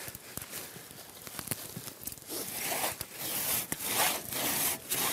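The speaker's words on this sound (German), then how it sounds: "Dazu benutzen die Zimmerer wieder die Trummsäge." A two-man crosscut saw drawn back and forth through a felled tree trunk by carpenters, its rasping strokes repeating in a steady rhythm, close by and growing louder as the cut deepens.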